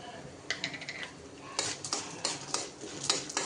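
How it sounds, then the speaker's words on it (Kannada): Urad dal poured into a cooking pan where chickpeas and chana dal are frying, giving bursts of clattering, rattling pan and utensil sounds in several quick clusters, fairly close and with no voices. "ಈಗ ಉದ್ದಿನಬೇಳೆ ಹಾಕ್ಕೊತಾ ಇದ್ದೀನಿ"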